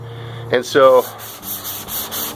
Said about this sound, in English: by sanding across the grain and putting scratches in it